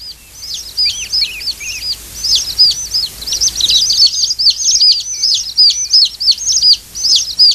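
A baby bird's high, thin peeping chirps repeated in quick bursts, loud and close, with brief pauses between runs.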